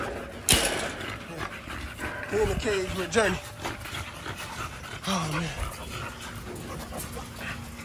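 An American Bully dog in a cage pants and lets out a few short whimpers and yips up close, mixed with clanks and someone talking over it.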